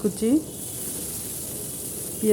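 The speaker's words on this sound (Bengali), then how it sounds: "একটা কড়াইতে দিয়ে দেবো তেল, কিছুটা তেল, এর বেশি তেল লাগবে না। তারপরে দিয়ে দেবো পেঁয়াজ" Chopped onion sizzles in a little oil in a kadai wok, a steady frying hiss throughout, with brief voice sounds at the start and end.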